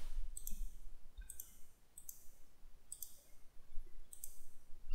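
A computer mouse clicks about five times in sharp, quiet, isolated taps roughly a second apart while a mesh is traced in ZBrush, with only faint background hiss between clicks.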